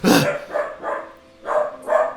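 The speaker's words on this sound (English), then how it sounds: "as you hear wild dogs outside from the courtyard" Several wild dogs barking outdoors in a courtyard at night, four or five sharp barks in uneven bursts with short pauses, fairly close and clear, no talking.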